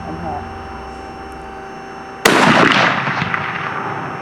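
A Savage .270 hunting rifle fires once at a deer about 260 yards away on a Pennsylvania hunt, a single loud sharp crack halfway through that rolls off into a long echoing boom, following quiet outdoor stillness.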